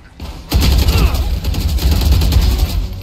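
A burst of rapid gunfire in the shooter game Valorant, starting abruptly after a short quiet lead-in and continuing as loud, close, rapid shots for a few seconds, with voices talking alongside.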